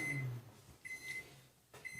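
Microwave oven running while heating a croissant, with a low steady hum and several short high electronic beeps, fairly quiet in an indoor setting.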